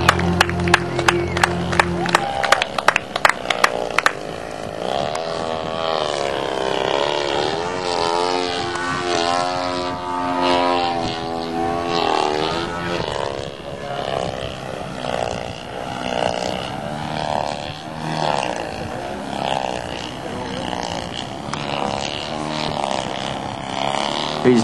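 A propeller-driven aerobatic airplane flying a competition routine, its engine droning and swelling in pitch as it climbs, dives and tumbles at a distance, with crowd noise and brief applause-like bursts.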